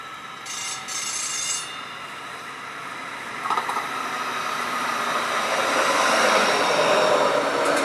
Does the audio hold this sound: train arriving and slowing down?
yes